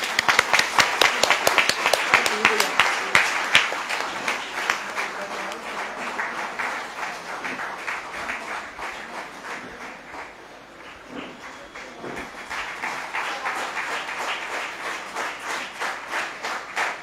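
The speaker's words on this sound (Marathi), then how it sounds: "टाळ्या वाजवा" An audience applauds at a JNSS Borivali West anniversary function: dense, steady clapping that starts loud and close, eases slightly midway, then swells again, with voices mixed faintly underneath.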